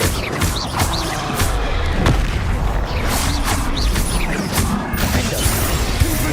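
Bombarda spell blasts in the Hogwarts Legacy video game: a rapid series of booming explosions and crashing impacts with whooshing spell sweeps, loud and close, continuing across the clip.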